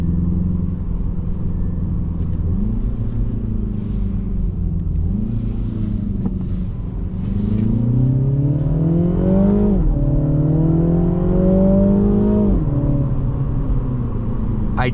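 A 2022 Mini Cooper S automatic engine accelerates through several gears, the pitch climbing and dropping with each shift, loud and steady from inside the car.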